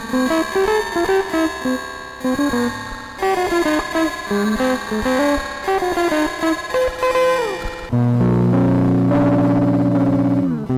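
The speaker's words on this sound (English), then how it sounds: "So if I turn that up, it turns into a ring modulation." A Destiny+ Entanglement effects unit with its chorus rate and depth pushed up until it becomes ring modulation, shown on a series of melodic synth-like notes that wobble and ring metallically, then switch to a dense, buzzing sustained tone near the end.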